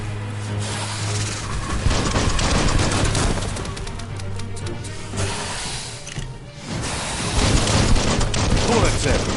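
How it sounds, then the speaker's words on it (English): Gunfire in the Biomutant video game: rapid, dense volleys of shots and bangs that run almost continuously and loud over a busy mix of game sound, with brief lulls between bursts. "Bullets everywhere."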